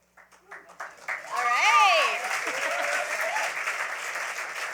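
An audience at a literary awards gala claps in a dense, continuous wash of applause, with a person talking prominently over it.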